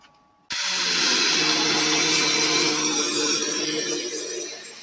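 Arc welding on pipe flanges starts abruptly after a short quiet moment, then a steady loud crackling buzz holds close and continuous until the end.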